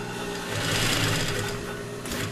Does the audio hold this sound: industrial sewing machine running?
yes